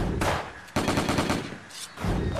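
Rapid bursts of automatic gunfire from a player shooting in The Duel Survival, loud and close, in three dense volleys separated by short gaps.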